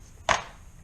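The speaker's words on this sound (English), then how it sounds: "That noise you're hearing is me sucking the solder off the board." A desoldering pump sucks solder off the circuit board of a Lexus LS400 ECU under repair, giving a single sharp snap that fades quickly, close and alone in a quiet room.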